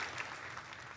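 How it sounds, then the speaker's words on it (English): Applause from a small live audience comes as a steady, soft wash of clapping across the whole second, moderately distant and fairly faint. "I was waiting for the applause."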